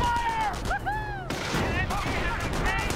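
Gunfire rattles through a World War II battle in Company of Heroes, with rapid cracking shots mixed into a dense battlefield din while voices shout over it.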